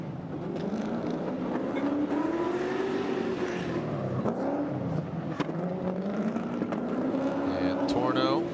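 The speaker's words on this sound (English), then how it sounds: "Warming up the GT Radials, the official tire of the PROSPEC Championship." A Jackson Performance BMW E36 drift car holds a long, loud burnout to warm up its GT Radial tires at a Formula Drift PROSPEC event, engine droning and wavering in pitch, with an announcer talking over it.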